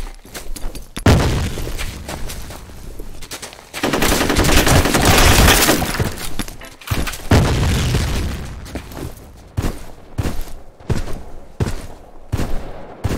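In the game F.E.A.R., a grenade blast and heavy automatic gunfire roar loud and near, with sustained bursts and rattling volleys that break into choppy, separate shots toward the end.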